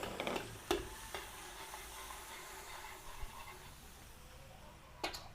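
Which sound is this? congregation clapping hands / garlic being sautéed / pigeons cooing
garlic being sautéed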